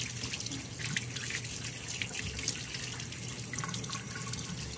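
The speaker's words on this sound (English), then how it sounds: "Oh, it's time to wash these off. They literally rinse right off." Running tap water pours steadily into a sink while linoleum printing blocks are rinsed of ink beneath it, a continuous close splashing hiss with small drips.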